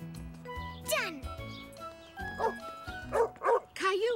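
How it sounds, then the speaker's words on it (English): An angry cartoon dog barks in a children's animated story, a few yapping barks near the end after jingling tones and music, with speech nearby. "The dog sounded angry."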